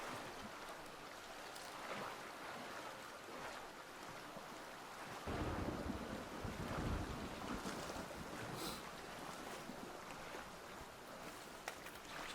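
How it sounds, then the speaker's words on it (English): Character swimming through water in the survival game Sons Of The Forest, a steady wash of splashing and rushing water with windy, wave-like noise that grows louder and fuller partway through, with no talking. "let's go for a little swim"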